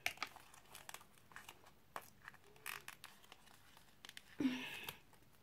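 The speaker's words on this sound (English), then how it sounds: "Okay, I'm ripping the box." A cardboard box is torn open at close range, heard as faint, scattered crinkles and short tearing rips with small pauses between them and a slightly louder rip near the end.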